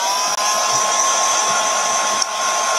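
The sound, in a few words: hair dryer drying a thick lump of paint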